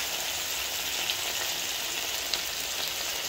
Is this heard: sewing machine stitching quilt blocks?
no